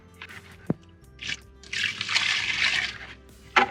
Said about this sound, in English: Go ahead and add a little water.